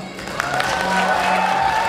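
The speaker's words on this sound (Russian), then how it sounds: "Просьба аплодисментов зала." Applause from a concert hall audience at a student talent gala concert, a steady wash of clapping rising slightly and holding, with some voices mixed in.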